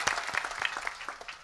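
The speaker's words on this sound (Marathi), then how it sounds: "स्पीकरवाल्यासाठी एकदा टाळ्या सगळेजण वाजवा" An audience at a religious discourse claps in a brief burst of quick, scattered applause, faint and somewhat distant.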